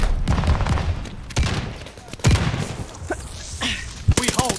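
Bursts of rapid automatic gunfire and single shots crack out in a Call of Duty Vanguard multiplayer battle, loud and close in several volleys, with a shouting voice breaking in near the end.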